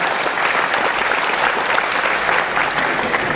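Dense, steady audience applause fills an evening anti-corruption music event in Indonesia, a continuous wash of many hands clapping at even loudness throughout with no voices rising above it.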